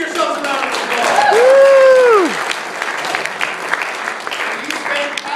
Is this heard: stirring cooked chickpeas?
no